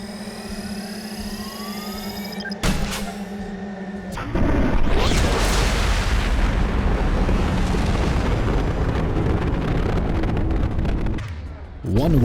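A Cain heavy weapon fires in Mass Effect 2: a rising charge-up whine, then a loud roaring explosion that sustains for several seconds before cutting off.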